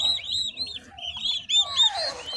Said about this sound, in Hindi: ये देखें माशाल्लाह ये सारी टर्की के चिक्स हैं जो हैच हुए हैं।